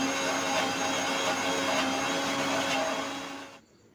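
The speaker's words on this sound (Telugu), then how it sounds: "ఇప్పుడు ఇందులో తగినన్ని వాటర్ వేసుకొని మెత్తగా గ్రైండ్ చేసుకోవాలి." A kitchen mixer grinder whirs steadily as it grinds a masala paste with water for sambar, a loud continuous motor drone that cuts off near the end.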